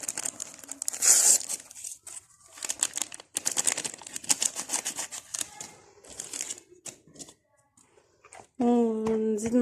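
Yeast packets crinkle and tear open in a kitchen during semolina cake preparation, a series of close, sharp rustling bursts in irregular rhythm, followed by a brief tonal sound at the end.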